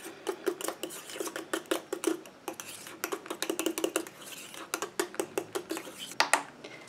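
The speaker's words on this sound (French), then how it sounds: "Je mélange." A homemade cosmetic mixture is stirred in a small container, with a utensil clicking and scraping in a rapid, steady series of sharp taps up close, with no talking.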